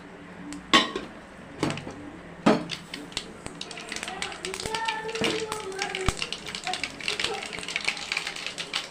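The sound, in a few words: mustard seeds spluttering in a pan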